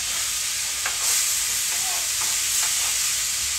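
Butter sizzles in a pan for fried salmon with a constant bright hiss, while a utensil stirs through it with soft scrapes and occasional light taps.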